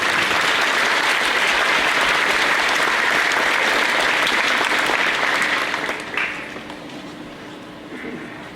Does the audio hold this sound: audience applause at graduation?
yes